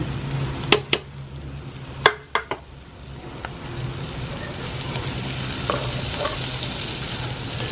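Mushrooms, garlic and onion fry in butter in a pan, a steady close sizzle broken by a few sharp clinks and scrapes of stirring early on, then continuing evenly without talk.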